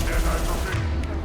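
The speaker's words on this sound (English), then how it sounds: "Literally shooting at Miranda." Bursts of gunfire in the sci-fi shooter video game Mass Effect 2, loud rapid shots in a dense volley, with a voice talking over them.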